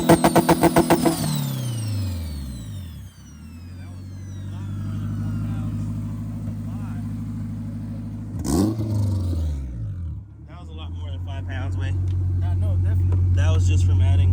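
A tuned, boosted car engine holds a steady two-step launch-control rev limiter to build boost, a sustained loud drone broken by a brief dip and restart midway, then climbing again; people talk under it.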